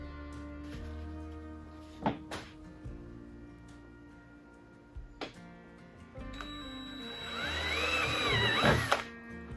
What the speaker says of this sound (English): let's go ahead and drill our holes now